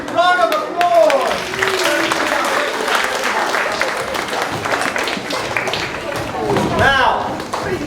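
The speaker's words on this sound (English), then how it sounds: "Round of applause!" Enthusiastic applause from a school science show audience, loud steady clapping with scattered thumps, overlaid by cheering and excited children's voices and a presenter talking throughout.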